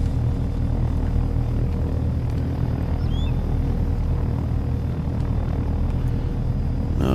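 A helicopter in the video game Take On Helicopters, a loud continuous engine and rotor rumble droning evenly throughout with no talking.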